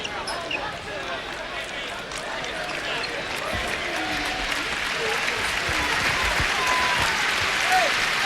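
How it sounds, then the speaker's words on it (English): A college basketball crowd at an NCAA game between Arkansas and Texas gives steady, sustained applause as an injured player leaves the court, with an announcer talking over it throughout. "Good round of applause for Towns as he will limp to the bench"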